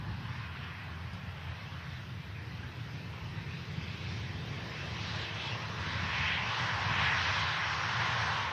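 An EasyJet jet aircraft at Manchester Airport, bound for Strasbourg, produces a broad, steady engine roar from a distance that swells slightly louder toward the end.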